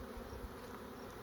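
Honeybees buzz close and continuous while a hive gets a third brood box, a dense, steady droning hum with no pauses, fairly faint overall.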